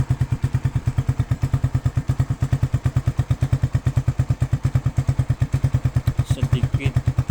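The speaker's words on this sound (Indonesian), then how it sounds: "lebih terdengar suara ngebasnya daripada knalpot bawaan Satria injeksinya sendiri" A Suzuki Satria fuel-injected motorcycle fitted with an SCD Euro aftermarket exhaust idles up close, a loud, steady, deep bassy thumping pulse with a slight blip of revs near the end.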